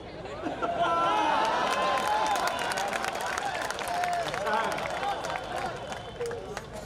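An audience at a Hindi comedy poetry show (hasya kavi sammelan) claps in a sustained, dense wash of applause, with crowd voices mixed in throughout.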